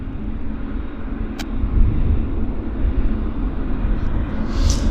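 A jet airliner rolls slowly onto its stand at Vancouver Airport, giving a steady, loud low rumble of idling engines with a rising whine near the end and a brief click partway through.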